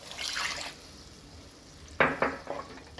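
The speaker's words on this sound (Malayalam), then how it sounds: "ഇനി നമുക്കിതിലേക്ക് വിനാഗിരി ചേർത്ത് കൊടുക്കാം." Vinegar poured into a spiced lemon pickle mixture, with soft liquid splashes and a couple of brief, sharper pours over a quiet background.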